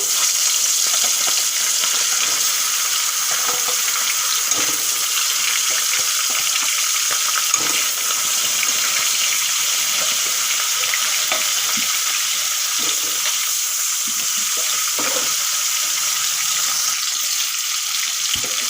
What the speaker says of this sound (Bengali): হলুদ নুন মাখা মাছগুলো এখন আমি ভেজে নেব